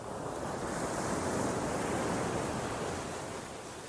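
Ocean waves breaking on black rocks make a steady, dense roar of surf, loud and close, with wind noise mixed in and no voices.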